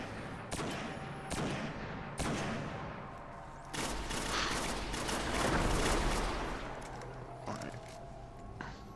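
Rifle fire in a video game, sharp distant shots and bursts spaced through a continuous loud noisy backdrop, with voices faintly under the action.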